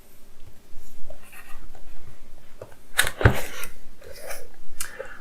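Razer Huntsman Mini keyboard box being opened: scattered papery rustles and cardboard scrapes, with a sharper burst of tearing and handling near the middle, fairly close and with no talking.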